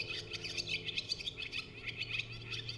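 Bird song played back on a Norns synthesizer: a steady run of quick, bright chirps and tweets repeating over a low humming background, moderately loud and without any talking.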